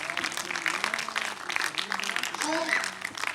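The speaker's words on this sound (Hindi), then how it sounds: "एक बार जोरदार तालियां इन प्रतिभागियों के लिए" At the closing ceremony of a 2024 youth theatre workshop, the audience gives the participants a lively burst of applause, and a voice speaks over the clapping throughout.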